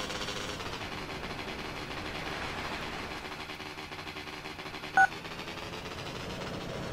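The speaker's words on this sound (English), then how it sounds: "that phone call went a bit glitchy" A glitchy phone call in the Liberty City Stories video game gives a steady electronic hiss and hum with a single short tone blip near the end.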